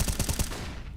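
Rapid rifle gunfire in a competitive first-person shooter match, a quick burst of about five loud shots spaced evenly, then a short ringing decay into quiet.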